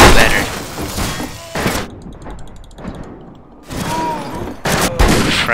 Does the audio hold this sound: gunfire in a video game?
yes